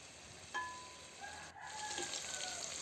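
Chicken pieces frying in a pan for a home-cooked chicken biryani give off a steady, even sizzle with a few brief tonal squeaks. No one speaks.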